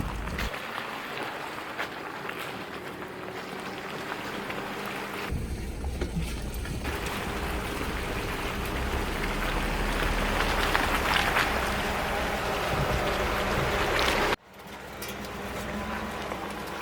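A vehicle rumbles and splashes through a shallow creek about half a foot deep, with a steady wash of churning noise and wind buffeting, ending in an abrupt drop.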